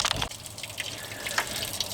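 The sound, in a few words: garden hose running water to flush a Jeep radiator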